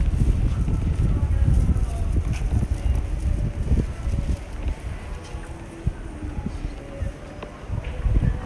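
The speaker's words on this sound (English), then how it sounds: "The wind is really strong today." Strong wind buffets on a Tokyo alleyway street, rumbling low and gusty against the microphone in uneven surges, with faint street ambience beneath.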